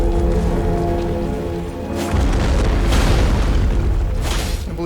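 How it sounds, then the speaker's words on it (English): Heavy katana blows strike rock again and again in Elden Ring, landing as loud booming impacts over a dense, rumbling game soundscape, with bursts of crashing at the start, middle and end. "I'm banging my brilliant katana on the freaking rock"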